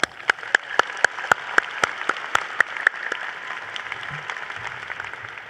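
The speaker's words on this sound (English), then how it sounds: "Join me in giving them a round of applause" A graduation audience at Baruch College applauds families, friends and staff. The applause is steady, with sharp, regularly spaced claps standing out close by, then fades slightly toward the end.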